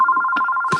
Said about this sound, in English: the phone is ringing as I'm reading